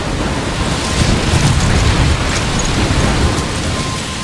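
A storm in the video game Life is Strange, with steady heavy rain and wind forming a dense, loud wash of noise and a low rumble of thunder building through the middle.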